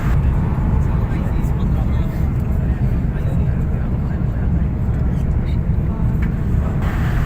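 Steady broad engine roar inside a passenger airliner climbing into clouds after takeoff from Dhaka, bound for Jeddah; a continuous loud cabin rumble with a person talking over it.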